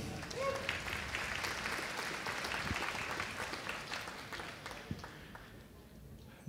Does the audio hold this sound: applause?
yes